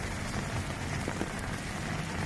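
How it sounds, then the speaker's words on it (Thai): Steady, continuous rain pours down during a flash flood along a road in Songkhla, Thailand, making a dense, even hiss with no breaks and no voices. "น้ำได้เกิดท่วมฉับพลันนะครับตั้งแต่เมื่อคืนนี้เนื่องจากฝนได้ตกลงมาอย่างต่อเนื่องนี่ครับ"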